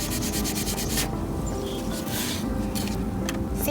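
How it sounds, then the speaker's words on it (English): The green scouring side of a kitchen sponge scrubs a garden tool being cleaned, making close, continuous rough rubbing strokes that pulse in rhythm. "I'm just gonna use the green side here just to kind of help scrub that here."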